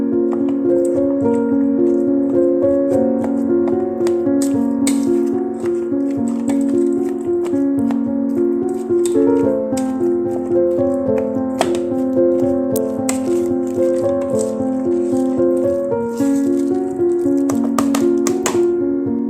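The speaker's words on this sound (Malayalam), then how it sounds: "ഇത് ഒരു തവി കൊണ്ട് നന്നായി ഉടച്ചെടുക്കാം." Cooked vegetables are mashed with a ladle for burger patties, giving a steady run of tapping and squishing knocks against the pot over background music.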